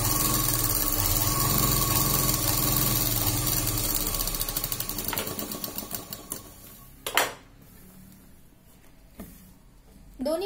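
A sewing machine stitches Bermuda half pants in a fast, steady mechanical chatter that runs for several seconds, then slows and stops, followed by a couple of louder handling knocks.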